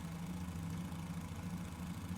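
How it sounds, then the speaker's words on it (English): Low-powered engine of a Fokker F.VII triplane in Microsoft Flight Simulator 2020 puttering steadily with a low, even drone, close and continuous throughout with no talking. "we still have that puttery low-powered engine sound"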